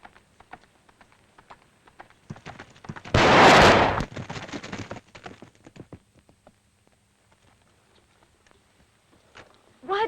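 A single loud gunshot bursts out to shoot a horse, trailing into a rough ringing decay amid scattered outdoor clatter and hoofbeat-like knocks, with quieter rustling afterward.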